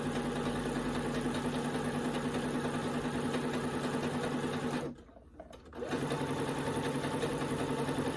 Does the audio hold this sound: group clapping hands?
no